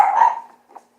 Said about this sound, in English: that's my dog. He gets on my nerve.